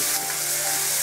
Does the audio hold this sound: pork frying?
yes